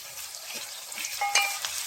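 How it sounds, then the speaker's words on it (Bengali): Gentle sizzling of garlic paste frying in oil with browned onions, a steady hiss with faint scraping stirs, no talking. "রসুনটা ভালো করে ভেজে নিব"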